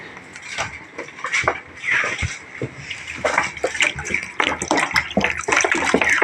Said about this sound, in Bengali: এবারে এটাতে আরও আমি কিছুটা পানি দিয়ে ভালোভাবে ধুয়ে পরিষ্কার করে নেব